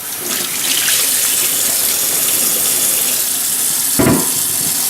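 Cold water runs steadily from a kitchen tap while raw chicken is rinsed under it, a loud, close, continuous hiss and splash with a brief heavier gush near the end, and no voices.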